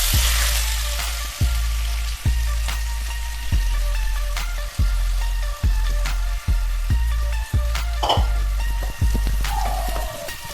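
Two medium onions, finely chopped, sizzle and crackle in hot oil in a pan for Kerala chicken biryani, with a steady frying hiss broken by regular stirring scrapes and occasional clinks.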